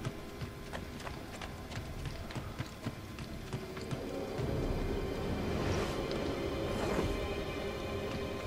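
Horse hooves gallop in Assassin's Creed Brotherhood, a fast steady clip-clop that runs throughout and grows louder and denser midway, with no talk over it.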